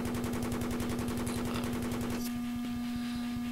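Tank gunner position in Battlefield 3 firing in rapid rhythmic bursts for about two seconds, with a steady engine drone underneath, then the firing stops and a few faint sharp hits follow.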